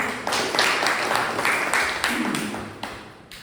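Audience applause at a club meeting, a steady patter of many hands clapping that stays fairly loud and then slowly fades out, with no talk over it.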